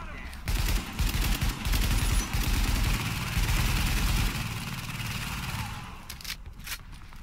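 Gunfire in the video game Tom Clancy's The Division, a dense run of rapid automatic shots cracking in quick bursts for several seconds before tapering off into quieter scattered noise.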